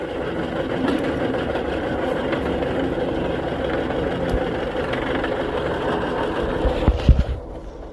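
An Allis Chalmers tractor engine, once seized, runs steadily while the tractor is driven, a continuous mid-pitched chugging drone with a few louder knocks near the end.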